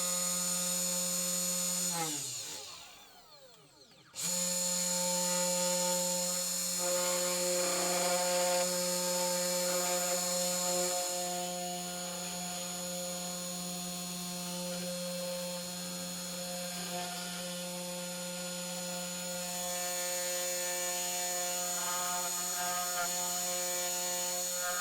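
A 3018 PRO CNC router spindle whines steadily with a strong tonal hum while cutting a design, briefly dipping and sweeping in pitch early on before settling into a continuous mechanical drone with faint cutting noise.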